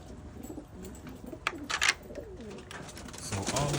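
Pigeons coo softly in a breeding loft, a few rolling coos and rustles over low background noise with brief louder bursts, fairly close but quiet overall.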